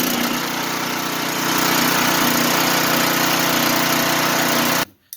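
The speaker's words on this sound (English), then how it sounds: "We're going to turn the fuel on, and we're going to set the choke, and we're going to pull start it." A Husky 5000 watt portable generator runs with a steady, loud engine drone that swells slightly early on, then cuts off abruptly near the end.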